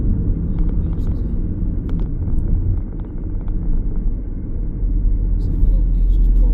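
A 2017 Skoda Superb 1.6 TDI with a six-speed manual gearbox cruises on the M1 motorway at speed, a steady, loud low rumble of engine and road noise heard from inside the cabin.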